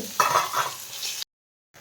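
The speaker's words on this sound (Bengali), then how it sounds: "তো এগুলো একটু ভালো করে ভাজা হোক" Dal with mango frying in a pot while being stirred, a close sizzle with scraping stir strokes for about a second, then a sudden cut to silence before faint sound returns.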